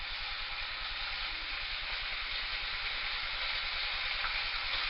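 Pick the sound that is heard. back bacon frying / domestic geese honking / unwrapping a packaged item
back bacon frying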